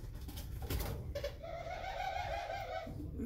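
Laughing doves in a caged breeding room give a soft, rolling coo, a close, bubbling call that starts after a brief rustle and carries through most of the clip.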